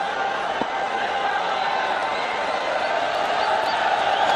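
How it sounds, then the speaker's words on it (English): A cricket crowd during a Bangladesh versus Pakistan match gives a steady, broad roar of noise, loud and unbroken throughout, with no single clear voice standing out. "And the crowd is roaring."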